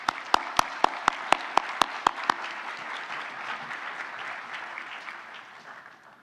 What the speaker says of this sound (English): So if everyone be willing to give a round of applause for all of the 6 finalists.